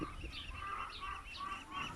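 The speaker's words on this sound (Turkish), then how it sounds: "Ay tavuk geldi." Near a reservoir lakeside, poultry calls out in a series of honking, nasal squawks, three or four bursts in quick succession at close range, with no talk over them.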